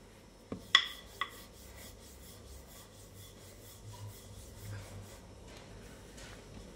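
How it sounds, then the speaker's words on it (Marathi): Dhokli dough for dal dhokli being rolled out with a rolling pin, a faint, soft rubbing and scraping with a few sharp clicks near the start and no talk. "अशी छान आपण लाटून घेऊया।"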